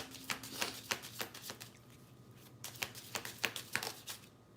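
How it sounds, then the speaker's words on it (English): Tarot cards are shuffled in close, crisp riffling bursts, about a dozen quick rustles in two runs separated by a short pause, quiet and with no talking. "All right, I'm going to shuffle."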